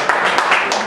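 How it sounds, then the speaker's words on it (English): An audience at a stand-up comedy show claps to welcome comedian Derek to the stage, giving a short, steady patter of many hands at moderate loudness with no voices over it. "Let's have a give a round of applause for Derek"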